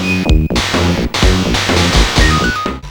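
Bouncing sound effect from the Home Alone game on Sega Genesis: loud, repetitive synthesized boings in a quick rhythm, each a cluster of harsh stepped tones, with brief noisy bursts and a few thin beeps between them.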